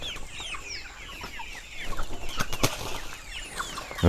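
Chickens on a farm cluck and chirp continuously, the birds close and fairly loud, with a burst of wing flapping and busier clucking toward the end.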